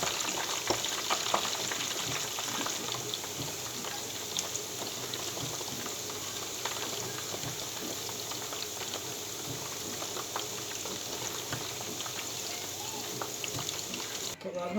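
Corn ribs fry in hot oil in a pan with a dense, steady sizzle and crackle that continues unbroken at close range throughout.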